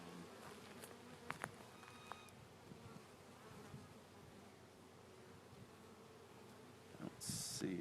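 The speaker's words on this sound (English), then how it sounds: "Oh, you got a ton of bees on the other side." Many honey bees hum in a low, steady drone close by in a hive, with a few soft knocks and rustles from handling.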